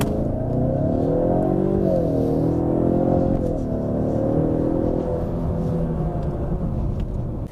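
A 2022 Ford Mustang EcoBoost accelerates hard from a standstill to 60 mph, its turbocharged four-cylinder rising in pitch through gears with brief dips at shifts, loud and close throughout.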